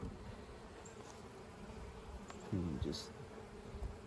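Honeybees and drones buzz steadily on a frame of pollen and capped honey in an outdoor hive, a close, continuous droning hum with a brief louder burst near the end as one flies past.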